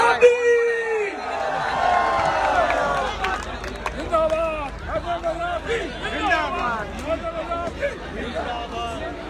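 A crowd cheers for Faisal Raza Abidi as he is introduced, with loud whoops, bellowed shouts and excited voices forming a continuous hubbub, plus a little clapping mixed in.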